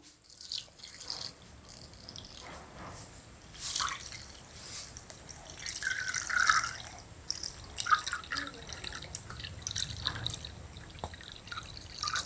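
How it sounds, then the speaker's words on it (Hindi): Water from a tap runs into rubber gloves for an ice-hand experiment, a close trickling and dripping stream with uneven splashy surges, fairly soft throughout. "एबे आमे ग्लोव्स भीतर पानी भर्ती करिबा।"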